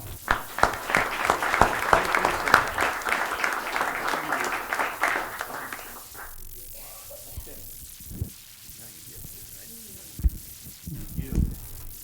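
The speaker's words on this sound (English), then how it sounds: "A round of applause." A city council meeting audience gives a round of applause, moderately loud clapping for about six seconds that fades into quiet room noise with scattered faint thumps and murmurs.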